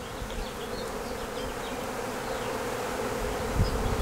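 Honey bees from a collected swarm buzz steadily inside their hive a week after collection, a dense continuous drone close by, with no talking.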